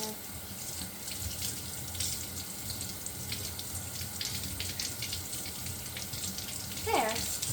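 Water running from a tap while an old plastic truck part is rinsed, a steady splashing flow with a brief louder gush near the end, and people talking faintly behind it.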